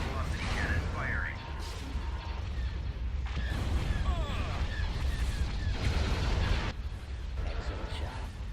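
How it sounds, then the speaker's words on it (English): Hypervelocity cannon fire in the space strategy game Star Wars: Thrawn's Revenge, heavy booming blasts and rumbling impacts layered with whistling weapon effects and radio-style voices. "Hypervelocity cannon firing."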